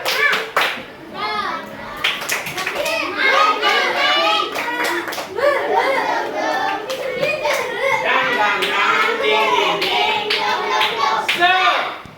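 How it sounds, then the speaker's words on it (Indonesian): Schoolchildren in an Indonesian classroom clapping together in a rhythmic class cheer, a loud, patterned burst of hand claps mixed with their chanting voices throughout. "Tepuk semangat."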